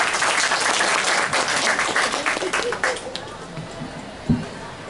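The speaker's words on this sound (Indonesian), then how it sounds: "tepuk tangan dulu sekali lagi tuh Pak Andreas Marwoto." An audience at a book launch event applauds with a dense wash of clapping that thins out over a few seconds. Faint talk is heard underneath.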